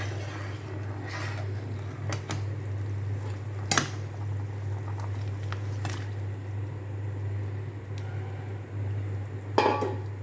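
Pointed gourd (potol) and fish cooking in a pan for a curry, with a steady low sizzle and bubbling close by, broken by a few sharp clinks of a utensil against the pan, and no talking.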